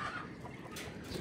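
A backyard hen that has laid eggs clucks softly and steadily through a short stretch, close by, with low farmyard background noise and no talking.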